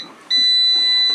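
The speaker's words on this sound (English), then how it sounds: "as soon as it shuts off. But it was, there goes the beeping." A PowerXL Vortex Pro air fryer gives a single sustained high-pitched electronic beep at the end of cooking, starting abruptly after faint room noise and holding loud and steady close by with no talk over it.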